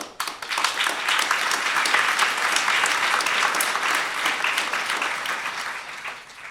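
An audience gives a warm round of applause to thank the Greenleaf Center team, dense clapping that swells quickly, holds steady for several seconds and then thins out toward the end.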